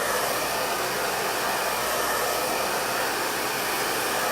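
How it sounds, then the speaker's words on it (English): A blow dryer runs at full power on thick, fine hair, giving a steady, loud, unbroken whoosh of air and motor hum from start to finish with no talking. "So this blow dryer cuts my drying time at least in half, no joke."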